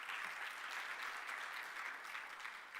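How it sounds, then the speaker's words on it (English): An audience at a university faculty postgraduate research day claps for a speaker, a steady, even wash of applause from many hands, fairly distant and quiet, lasting the whole stretch. "Give him a round of applause,"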